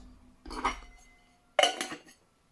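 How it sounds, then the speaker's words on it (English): Two metal camping cook pots and a lid from a Svea stove mess kit clinking and clattering in two short bursts separated by a brief pause, close and fairly loud. "So there I have two pots"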